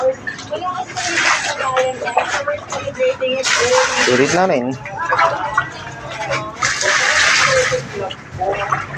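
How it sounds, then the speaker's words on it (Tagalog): Freshly caught fish get rinsed with water in repeated splashing, pouring bursts, close by, while people talk over and between the washing. "Para mahugasan. Hugasan natin tubig."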